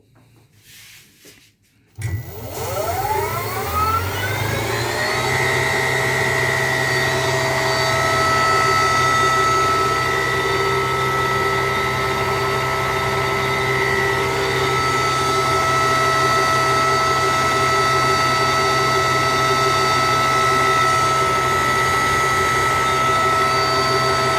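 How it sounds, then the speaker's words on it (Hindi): A 48/60V 1200W DATAI electric motor kit with a 42-inch differential spins up in reverse after a brief quiet start, settling into a loud, steady electric whine with a low hum and some table vibration. "रिवर्स पे और चला के दिखाते हैं अभी आपको"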